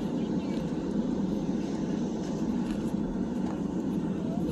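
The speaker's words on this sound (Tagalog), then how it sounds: "ang daming aeroplano na naikot sa runway" Airplanes taxi on a runway at Manila International Airport on an overcast, rainy day, giving a steady, dense engine rumble that stays loud and even throughout, with no clear voices.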